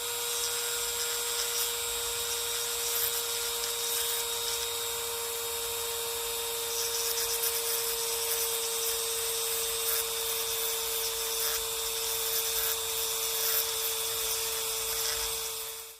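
A glass grinder runs steadily while shaping a piece of stained glass, giving a constant humming whine with a faint scraping texture from the glass against the bit, unbroken for the whole stretch.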